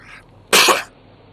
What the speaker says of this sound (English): Sorry, had to cough.